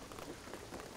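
Rain from the video game Shadow of the Tomb Raider falls as a steady, dense hiss of drops on surfaces, faint and continuous throughout.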